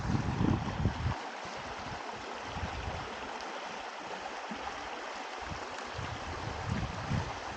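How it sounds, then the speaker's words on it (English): Kinzua Creek flowing, a soft steady wash of running water heard alone at a low level, with a brief rougher rustle at the start. "Here's Kinzua Creek."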